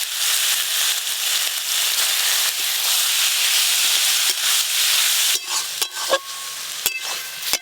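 Grated pumpkin drops into hot oil tempered with fenugreek seeds and sizzles with a loud, continuous frying hiss. A few sharp clinks of stirring come near the end, and no one speaks.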